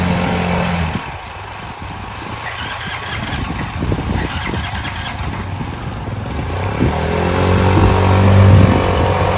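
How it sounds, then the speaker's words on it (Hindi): A motorcycle fitted with two connected silencers idles and runs close by, a steady loud engine drone that swells toward the end with rising revs. "इसको स्टार्ट करके देखते हैं ओके स्टार्ट हो गई है"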